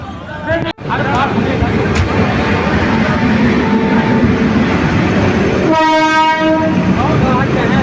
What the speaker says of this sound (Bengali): আমাদের ট্রেন 13010 দুন এক্সপ্রেস চলে এসছে হরিদ্বার স্টেশনে।